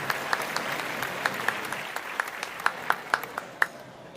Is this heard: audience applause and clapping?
yes